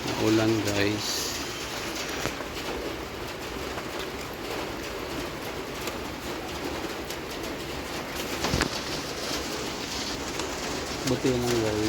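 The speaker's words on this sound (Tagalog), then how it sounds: "Naulan kasi sa labas guys." Steady rain falling outside at dusk, a dense hiss filling the whole stretch, with pigeons cooing faintly at the start and end.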